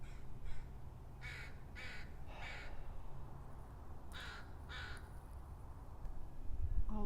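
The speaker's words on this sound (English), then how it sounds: "All the crows are coming over here now." Several crows caw in short repeated bursts, moderately distant over a low outdoor background hum, with no voices.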